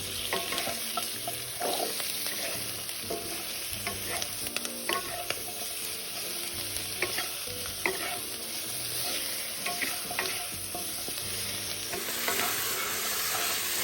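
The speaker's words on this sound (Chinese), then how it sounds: "再将猪脚倒入，转中火做快速拌炒，让糖色裹住表面，猪脚变成红亮色" Pig trotters and garlic cloves are stir-fried over medium heat in caramelized sugar, giving a constant close sizzle broken by repeated scraping stirs of a spatula.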